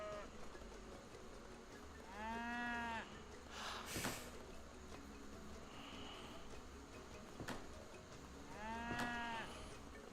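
Cows mooing in the strategy game Age of Empires 3, two drawn-out lowing calls several seconds apart over a low game soundscape with soft clicks and effects.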